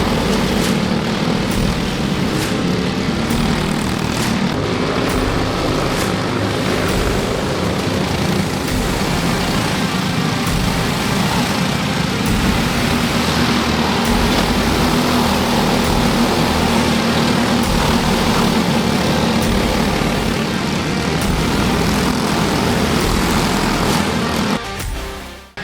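LO206 senior racing karts roar past at the finish of a kart race final at the NWKA Super Cup, a continuous loud buzz of small engines that holds steady, then cuts off abruptly.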